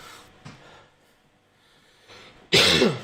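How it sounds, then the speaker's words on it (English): A person smoking a cigarette gives a short cough, then after a quiet pause breaks into a louder, harsher burst of coughing close to the microphone. "I'm going to start coughing now because I'm going to have a cigarette"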